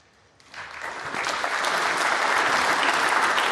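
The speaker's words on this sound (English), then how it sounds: "nice appreciation from the crowd" A snooker crowd at the British Open in Cheltenham breaks into applause, rising quickly from near silence into a steady, dense wall of clapping that holds full and loud to the end.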